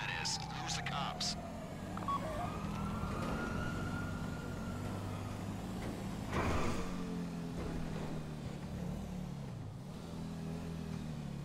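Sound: police car siren in video game GTA 5

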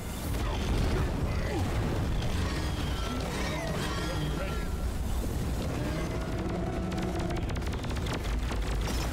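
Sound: explosions in a video game

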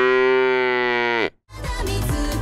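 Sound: person imitating a cow mooing

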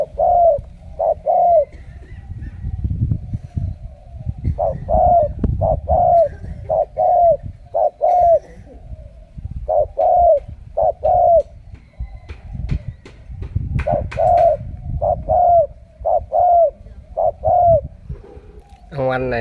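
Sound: dove cooing

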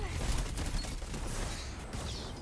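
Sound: gunshots from the video game Destiny 2

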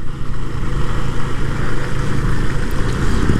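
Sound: Benelli Motobi 152 motorcycle riding

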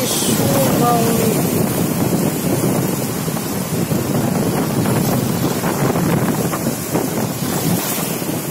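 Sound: ocean waves and wind

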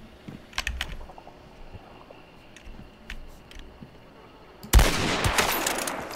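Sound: gunshots in the video game Hunt: Showdown

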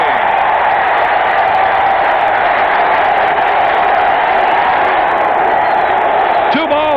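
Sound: baseball stadium crowd cheering

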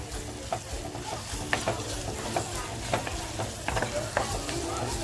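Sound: onion and red chili frying in a clay pot

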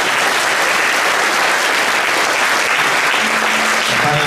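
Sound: audience applause at conference

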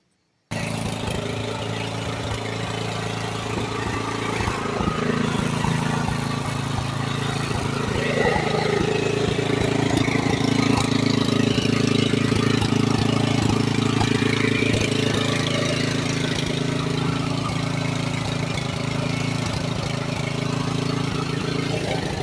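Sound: gasoline engine of a farm machine running

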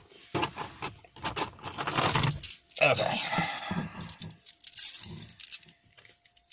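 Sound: truck keys jangling

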